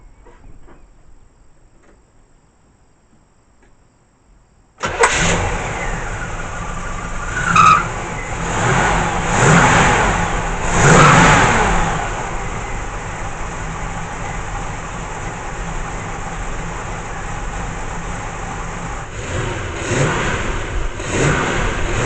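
A 1977 Camaro engine turns over and fires after a few seconds of near silence, then settles into a loud, steady run with a few brief revs along the way.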